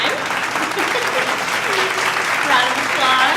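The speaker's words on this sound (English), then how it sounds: "can we give them a big round of applause?" An audience at an evening show applauds, a dense continuous clapping that holds steady for several seconds, with talking and voices mixed in underneath.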